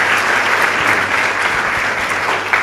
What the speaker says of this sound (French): Bravo, bravo.